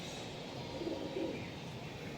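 An Imandin pigeon, a red-eyed breeding bird, gives a faint, soft low coo twice in quick succession over a steady background hiss.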